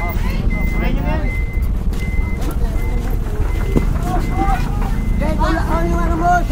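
A truck reverses with a steady repeating electronic beep, heard under loud outdoor chatter and shouting voices amid general street noise.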